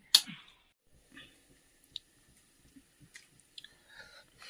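Someone chews Sukhi Sukat, a dried shrimp dish cooked over a wood stove, with soft, close, intermittent bites and moist smacking sounds, quiet and sparse without talk.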